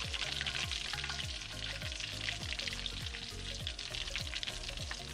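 Pieces of snapper, grouper or permit fish fry in a hot pan with dense, steady sizzling and crackling, an even bubbling hiss that holds for several seconds with no voices.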